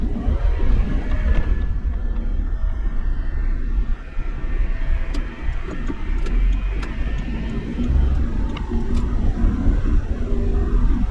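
A turbocharged Suzuki Jimny Wild Wind JA22 drives along with the air conditioning on, giving a steady, close engine and road rumble from inside the cabin that stays fairly loud throughout.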